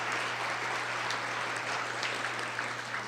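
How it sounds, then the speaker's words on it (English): Steady applause from a meeting audience welcoming newly elected directors, a continuous wash of many clapping hands with a low hum beneath. "Now you can applaud."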